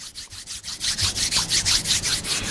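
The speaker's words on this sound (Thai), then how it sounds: "การถูมือก็ได้" Close, rhythmic rubbing of hands together, quick regular back-and-forth swishes repeating steadily and fairly loud, with no voices, picked up by a dynamic microphone.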